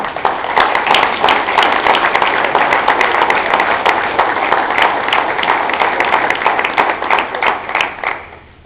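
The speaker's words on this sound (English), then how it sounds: "would you give Mr. Mike Salone a nice round of applause" Audience applause for a Wall of Fame inductee at a high school induction ceremony: a loud, dense burst of many hands clapping together, sustained for several seconds before tapering off at the end.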